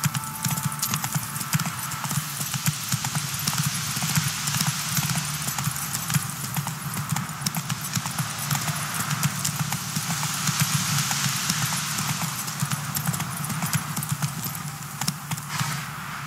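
Roach, Geralt's horse in The Witcher 3: Wild Hunt, gallops steadily for the whole stretch, with a dense, even rhythm of hoofbeats running on without pause and a faint snort now and then.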